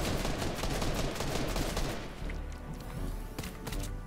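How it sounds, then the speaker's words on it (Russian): Dense, loud bursts of automatic gunfire from behind the player in Fortnite, rapid overlapping shots in a busy firefight that ease slightly midway, then return with sharp cracks toward the end. "О, еще сзади по нам стреляют."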